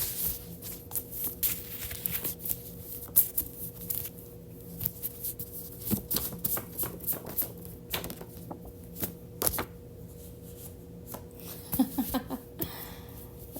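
Tarot cards being shuffled and pulled from the deck make faint, repeated papery snaps and flicks in uneven clusters, close but quiet, against a low steady hum.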